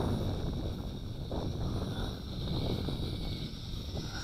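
Steady wind blusters across the microphone during an FPV flight of a JJRC H29G 5.8GHz drone, a continuous broadband rush with a faint high motor whine riding above it.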